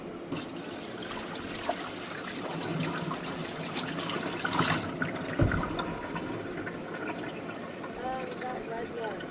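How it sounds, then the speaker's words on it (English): Water poured down a sink into a problem drain, a continuous splashing gurgle of liquid running away, fairly close, with a few bumps and a brief louder thud partway through. "We're going to see where this water comes out of if I pour it down the sink."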